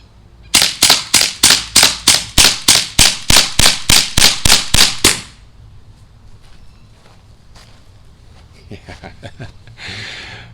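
Daisy Powerline 426 CO2 BB pistol fired rapidly outdoors at about 10 yards, a quick even string of roughly fifteen sharp pops over five seconds, loud and close, followed by quieter handling noises and faint talk.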